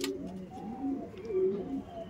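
Kaldom pigeons coo softly nearby in a loft, a few low wavering coos in quick succession over a quiet background.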